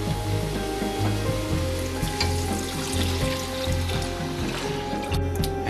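Meat for a Libyan soup sauteing in a pot, a continuous close sizzle and crackle with occasional stirring scrapes and a steady low background hum, and no one talking.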